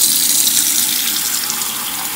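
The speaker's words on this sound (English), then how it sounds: "Fill it with hot, hot water." Hot tap water pours steadily into a bowl, a continuous close hiss and splash without pause.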